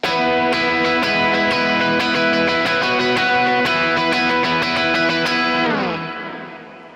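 Electric guitar notes ring out with a stereo delay, each phrase echoing in repeating layers before the tail fades away at the end.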